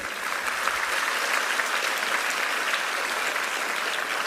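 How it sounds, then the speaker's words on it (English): An audience at a student felicitation program breaks into dense, even applause, many hands clapping steadily and loudly throughout with no pause or voices standing out. "So I think he deserves a big round of applause."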